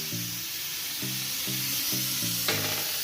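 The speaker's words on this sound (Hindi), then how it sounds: "अब हम ये ब्लेंडेड मटेरियल हम इसमें मिक्स कर रहे हैं।" A blended mixture hits browned onions in a hot pan for beef pulao, producing a steady sizzling hiss, with repeated tonal notes sounding in the background.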